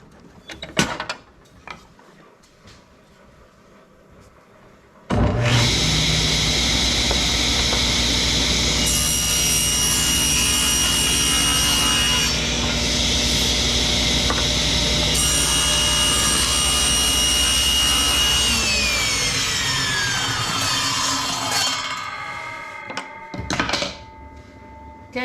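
A table saw rips wood stock into 4.5-inch strips, starting with a sudden loud whine that holds steady and close for about eighteen seconds, then spins down with falling pitch, framed by a few quiet clunks and handling knocks.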